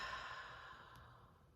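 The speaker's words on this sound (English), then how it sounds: "deep breath out." A slow, deep breath out, exhaled softly and close, a breathy airy rush that fades gradually over a second and a half, with no talking.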